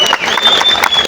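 Audience applause at a Kannada Rajyotsava event honouring coaching-institute faculty: a steady, dense wash of clapping from a crowd, with a thin whistle held above it and voices mixed in.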